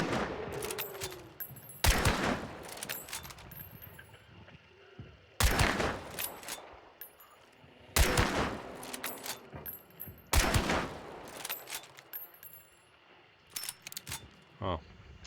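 Gunfire in the Hunt: Showdown video game: several loud, sharp shot bursts spaced a few seconds apart, with clicks and mechanical handling noises between them, under occasional talk.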